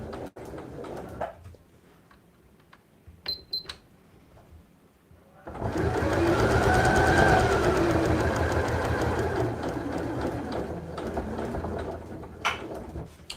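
Domestic sewing machine stitching a fabric side pouch, starting after a few quiet seconds of small handling clicks and then running in one long steady whir, close and loud, easing slightly toward the end.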